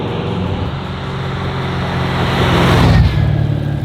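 A 1969 Chevrolet Camaro restomod with a 454 big block V8, a deep engine rumble heard from inside the car as it climbs in a swelling rev, then drops back to a steady drone.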